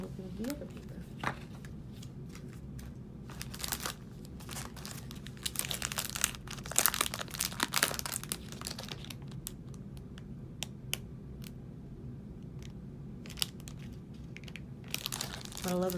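Sheets of planner paper for a Happy Planner Mini set are shuffled and crinkled near the mic, with bursts of rustling and soft crackles coming in uneven waves over a low steady background.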